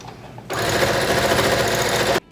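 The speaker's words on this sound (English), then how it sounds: "Sew the iron edge down." Sewing machine stitching down the ironed, folded edge of a jacket hem, a close, loud continuous whirring burst that starts abruptly, runs steadily for under two seconds, then stops.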